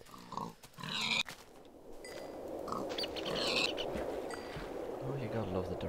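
Pig grunts and oinks from a Minecraft Tekkit game world, a few snorting calls over a continuous noisy game background, with a voice talking at the start.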